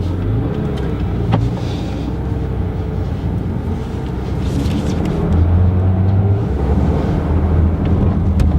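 Porsche 911 GT3 RS with the PDK gearbox in normal mode and the sports exhaust switched on, a loud, steady low engine rumble with a deep hum building slightly midway, heard from inside the car amid wind noise.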